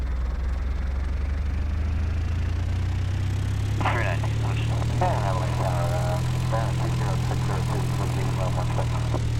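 A Cessna 172 SP propeller engine drones steadily at takeoff in the X-Plane 9 flight simulator, a loud, constant low hum with a radio voice speaking over it midway.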